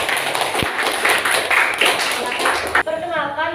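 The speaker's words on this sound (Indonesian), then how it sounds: "Beri tepuk tangan untuk kelompok 3." Classroom applause for a presenting student group, a busy patter of clapping hands that fills most of the moment before fading out as a voice begins speaking near the end.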